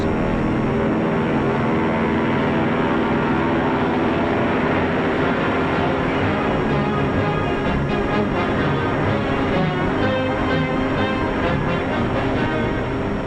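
Lockheed military propeller planes, including Hudson bombers and P-38s, drone loudly and steadily overhead in a dense, continuous engine roar with a rough, throbbing texture and no talk.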